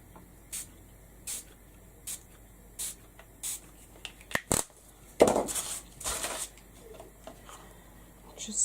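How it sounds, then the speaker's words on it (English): Gold spray is spritzed onto a journal page in short hissing bursts, several quick pumps spaced about a second apart, then longer louder sprays toward the end, close by and fairly quiet overall. "I'm going to spritz a bit of gold on here"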